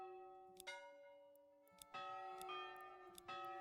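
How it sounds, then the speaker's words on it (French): A church bell in the medieval city-building game Manor Lords tolls in several separate, ringing strikes with long resonant decay, quiet and alone against near silence. "Changer le son de la cloche."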